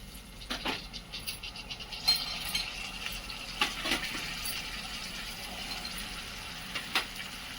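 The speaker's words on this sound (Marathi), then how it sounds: "सर्व भाज्या आपल्याला हलवून घ्यायच्या आहेत" Vegetables for veg pulao fry in a pan while they are stirred, giving a soft sizzle with a few sharp scraping clinks of a spoon at irregular moments, and no talk.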